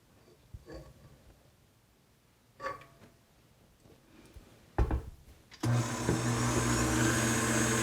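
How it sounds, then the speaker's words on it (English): A stand mixer fitted with a whisk attachment starts up partway through, whipping cream with a loud, steady motor whir that runs to the end after a few quieter bumps and handling noises. "I've got my mixer here fitted with my whisk attachment because the first thing I'm going to do is whisk my whipping cream until stiff peaks form"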